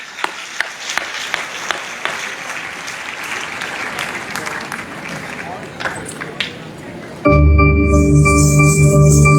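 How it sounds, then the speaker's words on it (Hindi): An audience applauding to welcome students at a gathering, a sustained patter of many hands with a few sharper claps, cut off near the end by loud steady music. "उनका स्वागत तो कीजिए जरा तालियों की गड़गड़ाहट से"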